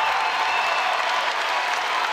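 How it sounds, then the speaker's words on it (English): A packed crowd at a women's college volleyball arena in Lawrence, during a Kansas versus Penn State NCAA second-round match, applauds and cheers continuously in a loud, dense wash of sound with no break. "Crowd on its feet here in Lawrence inside the Horace Family Volleyball Arena."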